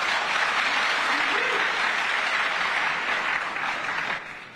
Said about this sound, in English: Yes, Empire, so clap it.